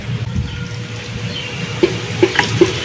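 Mustard oil and a little water are poured into a mix, giving a faint trickle and a few small drips and plops toward the end, close and quiet.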